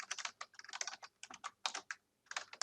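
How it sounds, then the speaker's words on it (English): Rapid, uneven keystrokes on a computer keyboard while entering a site name into a dendrochronology software form, close and clear, in short bursts with a brief pause, no talking. "we can go through here and type in site name"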